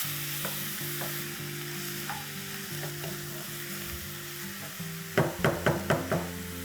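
500 grams of washed minced mutton sizzles in a pan for keema paratha, a low steady fry hum with scattered scrapes, then a quick run of five or six sharp spoon knocks against the pan near the end, no talking.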